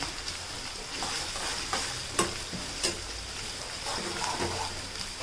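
Chopped onions with ginger-garlic paste sizzle steadily in a pan for vegetable biryani, with a few sharp spoon scrapes and clinks from stirring over the constant frying hiss.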